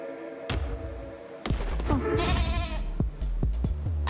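Sheep bleat loudly in Cult of the Lamb, with wavering, nasal cries over a steady game music bed and several thumping beats. No one talks.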